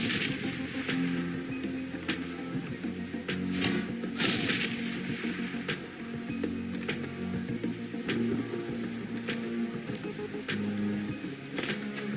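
Repeated sharp reports from a stealth grenade launcher in the game Shadowrun Hong Kong, spaced irregularly over a continuous droning game soundtrack, each shot brief and crisp.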